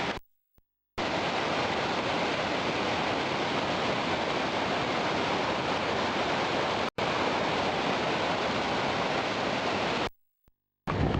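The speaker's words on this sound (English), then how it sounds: "here we are at the Lura Cascades, and they are cascading, just being pissing down" Rain-swollen cascades pour down in heavy rain in Australia, making a loud, constant broadband roar of rushing water that fills the clip, broken only by brief silent cuts at the start, middle and end.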